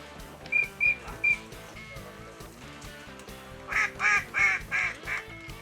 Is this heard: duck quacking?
yes